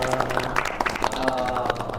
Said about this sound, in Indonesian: teman-teman yang sudah hadir pada kesempatan kali ini boleh tepuk tangan teman-teman